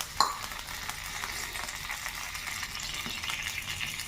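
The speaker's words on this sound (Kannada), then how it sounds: "ಒಗ್ಗರಣೆಗೆ ಸಾಸಿವೆ ಕಾಳು ಸ್ವಲ್ಪ ಜಾಸ್ತಿ ಹಾಕಬೇಕು" Hot oil sizzles in a pan while mustard seeds are tempered for a jackfruit seed rasam, a steady, fairly faint crackling hiss throughout with a light clink near the start.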